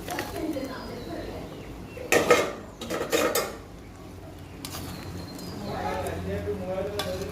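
Prawns and small pointed gourds tipped into a pot of rapidly boiling curry for a prawn and potol rasa: two short, close clattering splashes over a steady bubbling simmer, with faint birdsong in the background.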